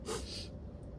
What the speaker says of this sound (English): Okay, sniff for me.